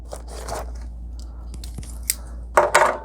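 Cardboard box packaging around a Glorious GMMK Pro keyboard being cut and torn, with scattered scraping crunches building to a louder burst of ripping near the end, close and alone.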